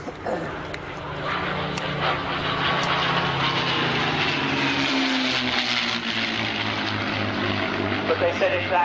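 Two P-51 Mustang warbirds pass by at Shoreham Airshow 2011, a loud, sustained propeller-engine roar that swells with a shifting pitch as they fly past, with a commentator talking over it.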